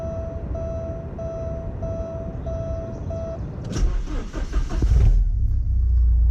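A Porsche 944 engine warming up, a steady low rumble that swells louder and rougher partway through, with a dashed chime beeping in the first half before it cuts out.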